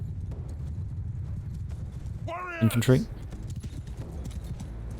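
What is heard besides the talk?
horses galloping in the video game Mount & Blade II: Bannerlord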